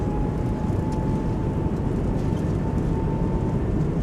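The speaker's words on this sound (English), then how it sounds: "Nose down, reversers out, decelerating." Airbus A220 in a flight simulator decelerating on landing with thrust reversers deployed, a steady loud broadband roar with a faint constant tone running throughout, no talk.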